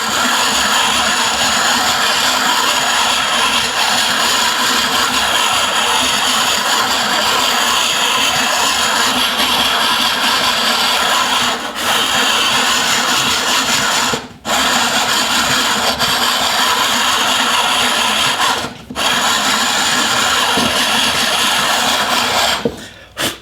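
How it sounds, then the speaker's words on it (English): A hand-cranked disk sander grinds a piece of wood held against the disc, a steady rough whirring scrape running nearly continuously at close range, with a few brief pauses and no talking. "you can easily hold the piece with one hand while turning the crank with the other"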